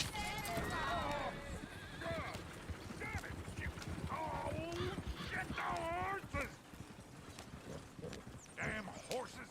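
Horses clip-clop in the Western video game Red Dead Revolver, a busy patter of hooves with snorts and whinnies mixed in, heard under voices talking throughout.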